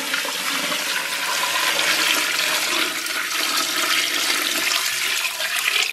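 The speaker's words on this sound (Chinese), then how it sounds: "然后给里边稍微来点水" Water is poured into a big pot of braised pork knuckles with spices, a loud, continuous rushing splash that runs steadily for several seconds with no talk.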